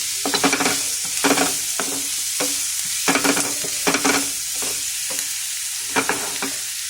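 Onions sautéing in a pan, a continuous sizzle of frying broken by repeated scraping strokes of a spoon stirring them, close and fairly loud with no talk.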